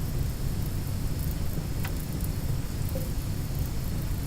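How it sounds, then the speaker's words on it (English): Steady rain in the video game Rimworld, a continuous hissing wash of noise that stays even throughout with no talking. "Oh, it is raining right now."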